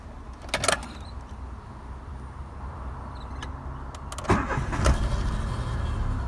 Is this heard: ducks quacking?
no